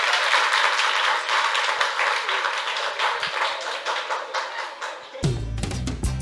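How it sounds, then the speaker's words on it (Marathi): An audience at a college campus event claps in a dense, sustained round of applause, loud and close throughout, before music abruptly cuts in near the end. "सगळ्यांसाठी टाळ्या झाल्या पाहिजे"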